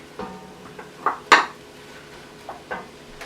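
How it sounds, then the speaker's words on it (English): Potatoes tumble into a pot already holding onions and garlic, giving several sharp clatters and knocks against the metal with one louder clank, close by and with nobody speaking. "I'm also going to add the potatoes in now too"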